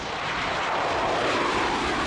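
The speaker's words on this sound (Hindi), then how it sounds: "चीन के कई लड़ाकू विमान भी आसपास मंडराने लगे।" Chinese fighter jets fly over the South China Sea, giving a continuous loud, broad jet roar that holds steady throughout with no pauses and no voices.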